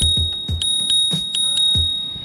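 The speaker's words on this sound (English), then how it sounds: "one of my favorite small features that they added onto this electric scooter is that it actually has a bell built into it" Built-in bell on a Machweel MX1 electric scooter rings loud and close, several quick bright dings in a rapid irregular run, with a steady high tone lingering underneath.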